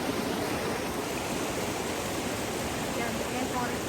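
Stream water flowing through a scenic natural area gives a steady, loud, close rushing hiss with no pauses. It runs the whole time, no voice rises above it, and it stays even and unbroken throughout.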